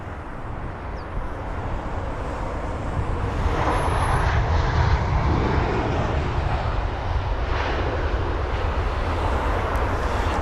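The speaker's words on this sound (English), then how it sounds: "we'll have to zoom in on the A320 instead. On approach, it's flight number BA431 from Amsterdam" British Airways Airbus A320 on approach to Heathrow, a steady broadband jet roar that swells slightly toward the middle and stays continuous throughout, heard at a moderate distance with no talking.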